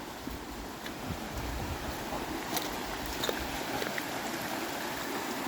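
Swollen creek after a good rain, a strong steady rush of flowing water filling the whole clip, close and continuous with no voices.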